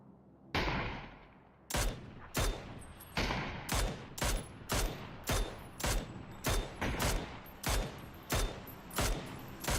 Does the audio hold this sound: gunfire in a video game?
yes